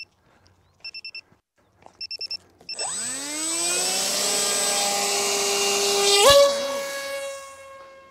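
Several short high electronic beeps from an AR Pro II drone, then its motors spin up into a loud, steady whine that rises in pitch and holds near the listener, with a brief louder surge toward the end.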